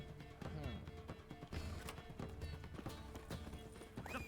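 Roach, Geralt's horse in The Witcher 3, gallops with steady, loud clip-clopping hooves under a bed of game music, with a brief whinny.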